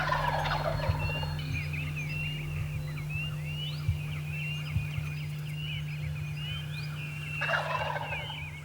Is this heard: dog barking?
no